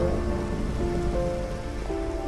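Steady rain pours in Minecraft PS4 gameplay, a constant close hiss of falling drops with faint musical tones underneath and no talking.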